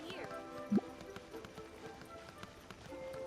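Running footsteps of a Genshin Impact character patter in a quick, hoof-like clip-clop rhythm, fairly close, under game music and voice chat.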